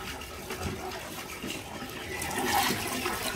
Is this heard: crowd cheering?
no